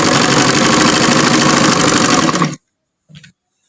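Sewing machine stitching along a folded fabric edge, a loud rapid steady mechanical whir running for about two and a half seconds, then stopping abruptly, followed by a brief faint knock.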